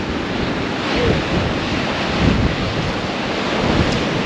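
Wind gusts buffet the microphone on the Holderness coast at Easington, a continuous broadband roar with surf washing behind it, swelling slightly at intervals and steady throughout.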